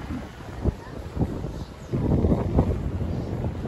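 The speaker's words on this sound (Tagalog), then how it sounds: "Kahit mahangin yan." Strong wind buffets the microphone at a seaside campsite in Calatagan, Batangas, a steady rushing roar that swells louder in the second half, with no voices.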